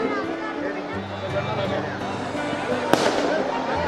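Firecrackers bursting at a Dussehra celebration in Sarangarh: one sharp, loud crack stands out over a steady crowd murmur and background talk.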